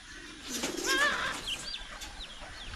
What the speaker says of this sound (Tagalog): Masaya yung mga kalapati basta makalabas sila.